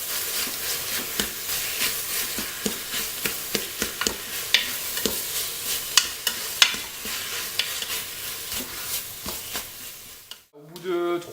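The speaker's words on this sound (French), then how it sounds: "Et on n'oublie pas de remuer de temps en temps." Turkey blanquette sizzles in a Cookeo multicooker while a utensil stirs and scrapes it in steady, repeated strokes, close and fairly loud, before a brief different sound at the very end.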